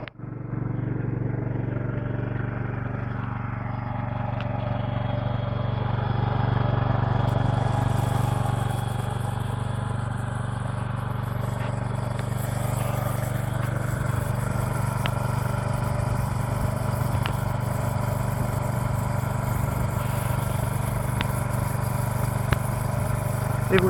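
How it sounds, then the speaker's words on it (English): Portable generator engine starting and running up to speed to power a drill press in a workshop, a steady loud mechanical drone that builds briefly then holds an even running hum for a long stretch. "Now we start the generator to make the juiciness with which to run the drill press"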